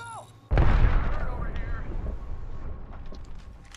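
A grenade goes off in a video game shooter, a sudden loud boom that rolls into a long rumbling decay, with excited player talk around it.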